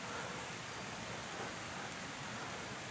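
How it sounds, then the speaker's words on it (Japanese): Rain falls on a tent at a campsite, a dense, even hiss of drops pattering steadily and softly without pause, with no voices. "雨が降ってきたんですね。"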